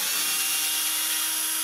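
A cordless drill fitted with a socket spins steadily to remove bolts, giving a continuous high motor whine at close range with no talking.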